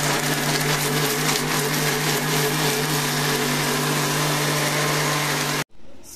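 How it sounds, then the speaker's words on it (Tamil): A kitchen blender grinds tomatoes in a loud, steady whirring drone that runs for several seconds before abruptly cutting off. "நம்ம தக்காளியை வந்து அரைச்சி எடுத்துகிட்டு வந்துடலாம்"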